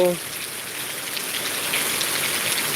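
Heavy monsoon rain pours down steadily over open farmland in Gujarat, a dense, even hiss that fills the scene throughout, close and constant, with a brief faint sound at the very start.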